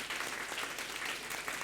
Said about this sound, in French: On peut applaudir nos intervenantes.